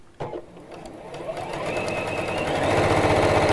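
A sewing machine stitches fabric wrapped around a cord, starting with a clunk and then running in a fast, even mechanical whir that speeds up and grows louder toward the end.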